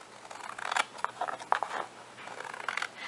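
Scissors trim a recycled candy box cardboard up close, a series of short crisp snips and rustles in uneven bursts, fairly quiet with no talking.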